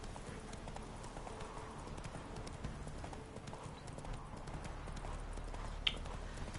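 Horse hooves clip-clop steadily on the ground as Roach is ridden in The Witcher video game, a continuous near trotting rhythm with a brief sharp click near the end.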